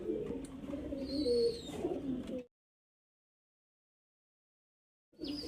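Highflyer pigeons coo softly up close, a couple of throaty rolling calls over a faint murmur, then the sound cuts to silence before briefly returning.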